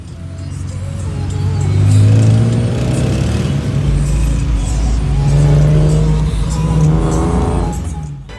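A tuk-tuk on a night ride in Phuket, Thailand, its small engine revving up and easing off in two long rising and falling swells, loud and close, with steady road rumble underneath.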